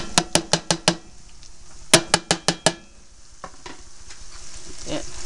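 Onions and garlic sautéing in a pan alongside salmon and peppers, opening with two quick bursts of sharp clicking taps followed by a soft, steady sizzle that gradually builds, close by with no voices.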